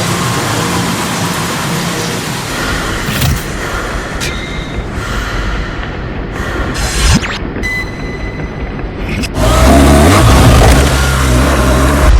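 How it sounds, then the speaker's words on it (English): A loud 2013 BMW R 1200 GS motorcycle engine roars and revs up steadily, with a rushing, wind-like noise throughout and a surge in volume near the end. "Start the engine, please. 60 kilometers per hour. Now 100, then step on the gas."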